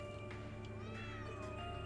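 Inside Trails of Cold Steel III, a cat lets out a plaintive meow over a continuous background of game music and ambience.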